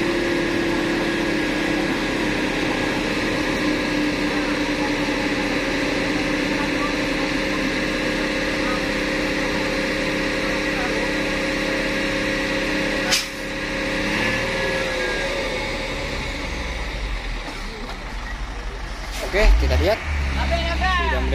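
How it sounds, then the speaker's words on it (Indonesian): A stuck truck's engine warming up at idle, a steady low rumble running throughout with a brief knock near the end, while someone talks over it. "Antruk yang amblas sudah mulai memanaskan mesinnya bosku ya."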